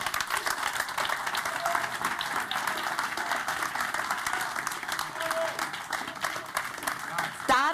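Steady crowd applause during an evening music festival awards moment for a press prize, dense and sustained throughout, with voices talking over the clapping.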